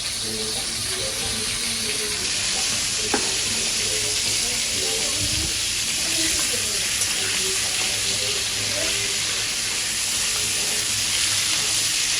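Sundarbans crab fries in hot oil with a loud, continuous hissing sizzle that holds steady throughout, while a voice speaks faintly underneath.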